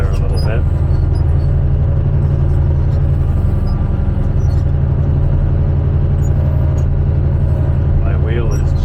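A truck engine pulls in first gear at half throttle with a deep, constant rumble that stays loud and close, while someone talks over it.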